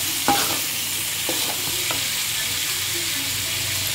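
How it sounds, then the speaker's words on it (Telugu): Baby corn and onion pieces sizzling in a pan for a masala curry, a steady loud frying hiss with a few soft stirring clinks, no voices. "ముందుగా కట్టేసుకున్న బేబీ కార్న్ ఇందులోనే వేసుకోవాలి అలాగే ఆనియన్ ముక్కలు కూడా ఇందులోనే వేసుకోవాలి"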